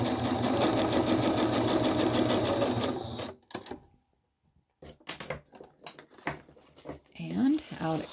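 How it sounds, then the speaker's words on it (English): A sewing machine runs a single straight stitch across paper, a fast rattling mechanical buzz for about three seconds before stopping, followed by quiet handling clicks and a person talking. "I'm going to do a single stitch across here. I'm not going to bother with a zigzag."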